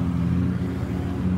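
A Toyota Supra rolling past at a Las Vegas cars and coffee meet, a steady low engine rumble, fairly loud and close, with no talk.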